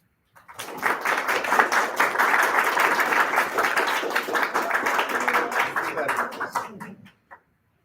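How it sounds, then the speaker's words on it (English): An audience at a forensics speech and debate showcase applauds to vote for the affirmative team: dense, loud clapping that swells quickly and holds for about seven seconds with some cheering mixed in, then cuts off. "round of applause for the affirmative"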